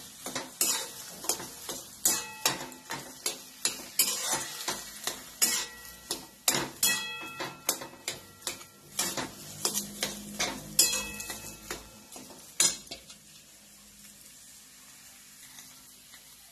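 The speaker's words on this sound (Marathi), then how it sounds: "मिश्रण चांगलं हलवायचं आहे." Mashed potato patty mixture with lemon juice and garam masala is stirred briskly in a bowl, the spoon scraping in a steady quick rhythm for about thirteen seconds before the strokes stop and the sound turns quiet.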